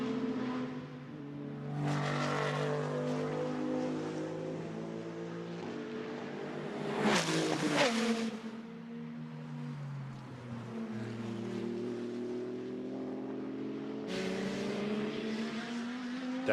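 GT2 race cars, a Maserati and a KTM among them, roar past at the Hockenheim circuit heading into a braking zone, engine notes rising and falling through gear changes, with a loud close pass in the middle and no talking.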